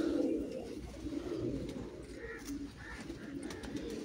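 Pigeons on a rooftop loft coo steadily in low, rolling phrases that repeat throughout, with occasional faint chirps above and no voices.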